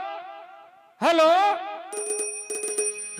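A telephone rings during a Chhattisgarhi folk theatre skit, bright repeated bell-like tones following a sung or voiced wavering phrase, with no talking over the ringing.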